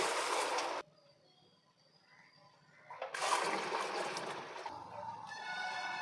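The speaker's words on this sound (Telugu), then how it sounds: "2 బకెట్స్ వాటర్ అయితే మనం టబ్లో పోసుకోవాలి" Water from two buckets poured into a tub, a loud gushing splash that stops, a quiet gap, then another heavy pour with trickling, close by and without talk.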